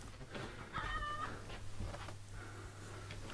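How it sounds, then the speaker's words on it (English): An old hen vocalizes in a few short, harmonic squawks and clucks, with one clear call near the start and fainter ones after, close by over a steady low hum and background noise. "That's Hyacinth, our oldest chicken, she is."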